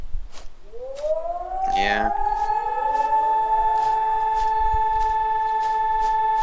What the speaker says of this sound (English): That's not a wolf. That's a loon.